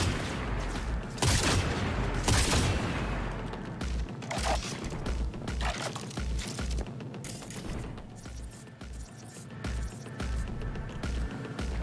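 Sniper rifle fire in Cyberpunk 2077, several loud sharp reports with booming tails amid continuous gunfire and crashing combat noise, close and punchy.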